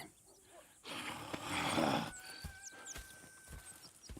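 A horse in the video game Red Dead Redemption 2 gives a rising, breathy whinny and snort, followed by a few soft hoof thuds nearby.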